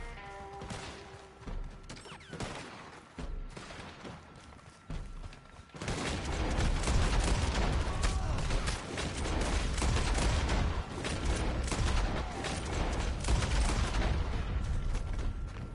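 Gunfire from regular bullets in Red Dead Online, starting as scattered shots and then turning into a dense, loud fusillade of overlapping reports that carries on to the end.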